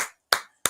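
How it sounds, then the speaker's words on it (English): Three sharp, close hand claps, evenly spaced about a third of a second apart, each with a short ringing tail in a quiet room. "Clap for that."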